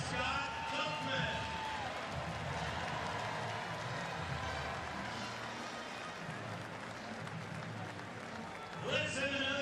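An audience at a memorial tribute honoring families of fallen service members applauds in a steady, dense wash of clapping that fills the room, with a voice speaking over it.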